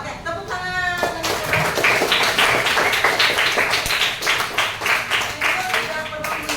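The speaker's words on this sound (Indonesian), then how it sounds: "Oke, tepuk tangan." Audience clapping in a classroom setting after a student presentation, a dense steady patter of many hands running throughout with a few voices and cheers mixed in.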